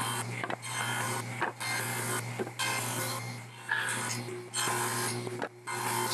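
Saw passes cutting wood for a lathe steady rest fixture, a sustained harsh rasping whine in long strokes broken by brief pauses, close and loud with no speech.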